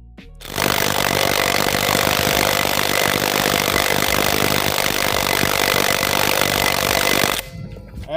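Makita DTW300 cordless impact wrench hammering at a heavily rusted 21mm nut, a loud, continuous rattling burst running about seven seconds near the mic before cutting off abruptly.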